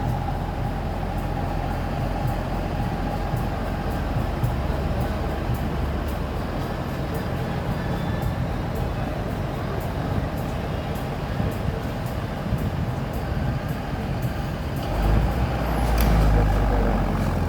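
A full passenger bus with Handoyo livery, its engine droning as it drives at night, gives a steady low rumble with road noise throughout, a slight swell near the end, and no talk.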